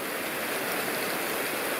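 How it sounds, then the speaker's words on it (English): Steady, dense rain mixed with hail pattering hard on a surface in the Wind River Range mountains, a continuous wash of noise with no voices. "We got a mixture of rain and hail."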